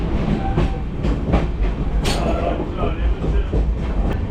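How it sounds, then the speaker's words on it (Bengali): The 13175 Kanchenjunga Express runs on the rails with a steady low rumble and rhythmic clatter of wheels over the tracks, loud and close throughout. "এখান থেকে আমরা ট্রেনটা ধরেছি।"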